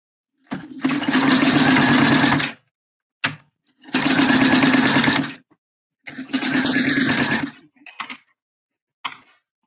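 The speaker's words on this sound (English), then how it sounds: "So I'm just going to stitch it right across the knot." A home sewing machine stitches across the center knot of a bra in three loud, close bursts of rapid whirring, each lasting one to two seconds, separated by pauses with a few short clicks and fabric handling sounds.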